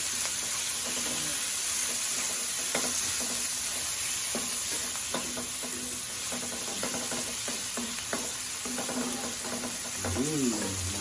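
Shrimp paste (alamang) stirred into a sizzling pan of coconut-milk banana blossom with shrimp, a steady close frying hiss with scraping stir strokes throughout and faint talk near the end.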